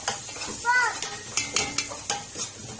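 A spoon stirs basmati rice in a metal pot, scraping and knocking against the sides in a quick series of close clicks and scuffs over a soft background sizzle, with a brief voice-like tone early on.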